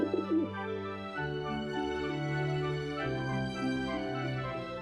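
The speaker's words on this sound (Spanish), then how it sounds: "Estas 2 palomas te harán compañía durante el viaje." Two pigeons or doves coo steadily and close by, their soft, low, rolling calls repeating over several seconds with no one speaking.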